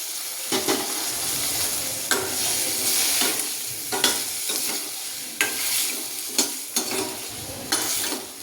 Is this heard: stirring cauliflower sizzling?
yes